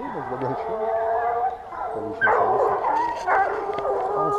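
Several hunting dogs bay and yelp in overlapping bursts at a wild boar pack-hunting contest, with people talking over the noisy outdoor chorus throughout.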